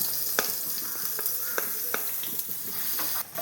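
Small shallots sizzling in hot oil with dried chilli and curry leaves for a thoran, a steady dense hiss broken by occasional sharp crackles and pops, close and alone without speech.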